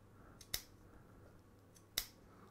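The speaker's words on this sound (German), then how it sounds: "Also die Schere muss man wirklich etwas Gewalt draus machen" The scissors of a plier-style multitool snip twice, each a sharp, crisp click about a second and a half apart over quiet background hiss.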